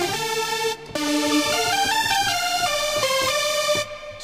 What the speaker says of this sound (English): Super saw kind of sounding, but I like to pitch bend them